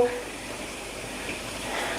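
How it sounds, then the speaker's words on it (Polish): Cheese doughnuts fry in plenty of hot fat, giving a steady, soft, hissing sizzle throughout, with a voice talking quietly over it. "smażymy w dużej ilości tłuszczu, na rozgrzanym tłuszczu"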